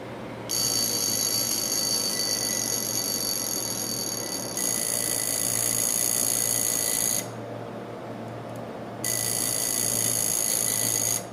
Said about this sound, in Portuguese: Agora você vai ouvir como é o som do alarme mecânico desse Seiko Bellmatic